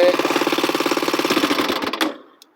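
A small four-stroke 250 two-wheel-drive ATV engine idles with a steady, rapid chugging pulse, then is switched off and falls silent, leaving a faint tick at the end.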